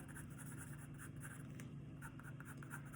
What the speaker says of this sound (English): Again, I'm still using an HB pencil.